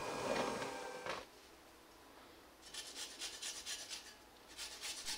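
Tonka bean being grated, a quiet rasping scrape in a short burst, then after a pause a run of rhythmic rubbing strokes, close and alone.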